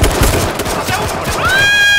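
Rapid gunfire from an H1Z1 King of the Kill match crackles in dense bursts, loud and close. A ringing tone rises near the end, with no talk over the shots.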